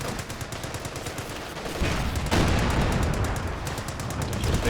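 Dense gunfire and machine-gun bursts crackle continuously from a Company of Heroes 2 match, a World War II strategy game played 2v2. The battle sound grows louder partway through and nobody talks over it.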